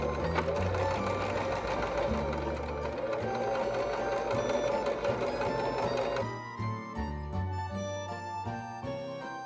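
Home sewing machine stitching dress fabric with tension and stitch length turned all the way up, a steady loud mechanical whirr running continuously, then slowing into shorter uneven bursts near the end.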